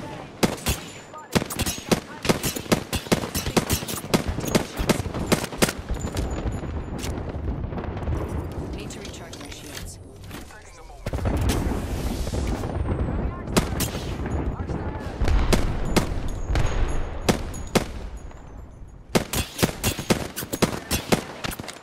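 Rapid bursts of automatic gunfire in the battle-royale video game Apex Legends, loud and near, rattling almost continuously with brief pauses and some speech mixed in.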